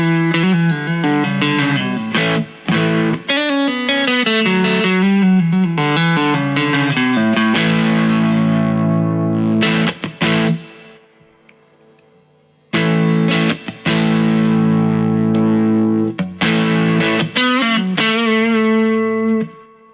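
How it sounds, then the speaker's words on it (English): Electric guitar through a Wampler Paisley Deluxe overdrive pedal on channel 1, playing driven chords and single-note phrases, loud and alone, with a brief pause mid-way before the playing resumes. "and it is channel 1 of the Paisley Deluxe. It sounds like this."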